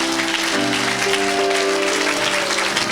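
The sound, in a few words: applause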